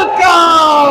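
A church congregation at a 36th anniversary service in Angono, Rizal shouts loudly together, a dense, close crowd roar sustained for about a second.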